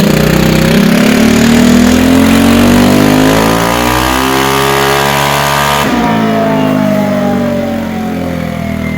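A Yamaha XMAX 300 scooter fitted with a 76mm TDR 350cc big-bore kit runs at full throttle on a dyno, a loud, steady engine howl that climbs smoothly in pitch, dips briefly, then keeps rising alone without talk.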